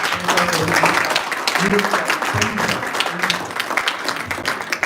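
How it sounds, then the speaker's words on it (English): Audience applause at a convention talk show and general election, sustained clapping filling the room while voices talk over it. "Please, let's also clap for him."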